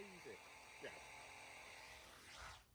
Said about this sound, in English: Where the bloody hell have you got power tools from?